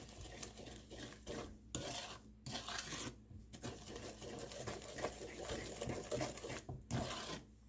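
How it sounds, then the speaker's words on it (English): Sugar, butter and eggs creamed together by hand in a bowl while baking rhubarb coffee cake: steady, close scraping and rubbing strokes with brief pauses, soft clinks of utensil against the dish. "I'm going to go ahead and stir this together a little bit. The sugar and the butter and the eggs."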